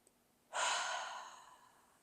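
One deep, slow breath moves in and out during a relaxed movement practice, close to the microphone, swelling quickly and then fading gradually as the air is released.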